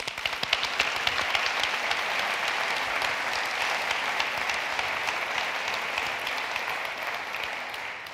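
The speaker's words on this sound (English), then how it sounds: "I would ask you for a big applause for all the mentors having helped on this program" Sustained applause from a large audience at a 2016 startup accelerator demo day, steady dense clapping filling the room at an even level throughout with no voices over it.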